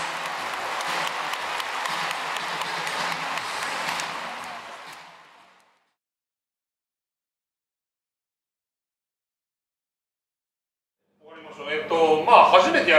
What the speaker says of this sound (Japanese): 戦いました両チームに皆様大きな拍手をお願いいたします